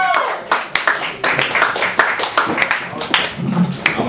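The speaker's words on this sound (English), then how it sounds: "Let's have a big round of applause." Audience claps and cheers at a Halloween open mic night, welcoming the next performer; irregular, fairly loud clapping with some voices mixed in across four seconds.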